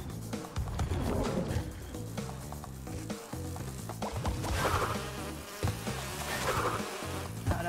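Insect-like buzzing of a bee in Crash Bandicoot 2 (N. Sane Trilogy) gameplay, sustained and fairly loud over layered game music and effects, with no talk.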